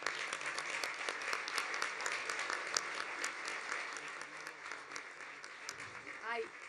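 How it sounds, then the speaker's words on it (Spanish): A forum audience applauds in a steady wash of claps at moderate distance, with a voice talking over the clapping toward the end. "Pueden parar los aplausos un poquito, discúlpenme"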